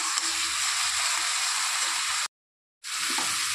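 Spices for a fish curry sautéing in a pan, a steady loud hiss and sizzle that cuts out for a moment and then resumes.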